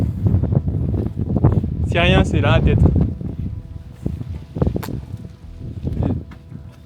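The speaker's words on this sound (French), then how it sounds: "Du vent, j'aime le vent." Steady wind buffeting the microphone outdoors on a volcano in Guadeloupe, a constant rumbling roar underneath people talking.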